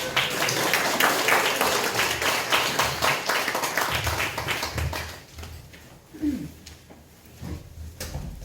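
Audience applause at a Korean prayer-house Friday sermon: dense, loud clapping fills the room for about five seconds, then thins out into scattered claps and room noise.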